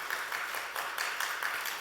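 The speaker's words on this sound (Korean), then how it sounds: "우리 박수 한번 쳐드립시다." Congregation clapping during a Friday night prayer meeting at a church, a moderately quiet, uneven patter of hands with distinct individual claps.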